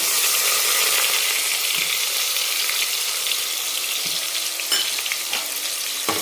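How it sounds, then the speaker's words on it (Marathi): A steady, loud sizzle of onion frying in hot oil, with faint clinks and scrapes now and then; no voices. "तेल छान गरम झालं की एक वाटी भरून पूर्ण आपण कांदा टाकणार आहे"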